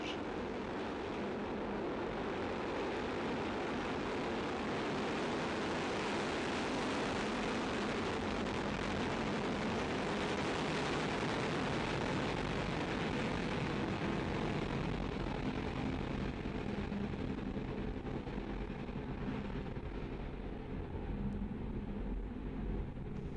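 Rocket engines roar at liftoff in a sustained, heavy, broadband rumble that swells and stays loud for the whole stretch, with no voices over it.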